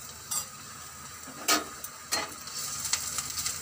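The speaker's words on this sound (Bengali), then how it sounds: "এটা ভালো করে আমি একটু ভেজে নেব" Garlic paste, ginger paste and chopped green chilies fry in refined oil with a soft, steady sizzle, broken by a few sharp clinks and scrapes of a utensil against the pan.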